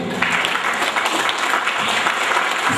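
A wedding crowd clapping together at a celebration in Taraz, dense sustained applause from many hands, loud and even from start to finish.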